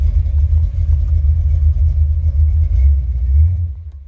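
Buick 455 Stage-1 V8 in a Regal T, worked by its throttle cable in a garage, giving a loud, deep idle rumble that swells slightly before cutting off near the end.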